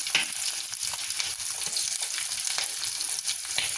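Grated ginger dropped into hot oil for a fishless fish curry fries with a steady, close sizzle and bubbling crackle, with a few faint stirring clicks and no talking.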